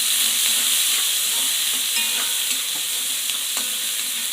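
Garlic and a small piece of ginger sauté in a pan under a constant, fairly loud sizzle, with light intermittent clinks of a spoon stirring throughout and no talking.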